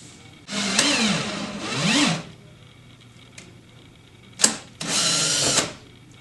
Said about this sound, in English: run your drill up slowly. It'll draw the wood hanger screw down into the driver